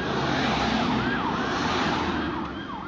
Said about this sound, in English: There might be an ambulance car.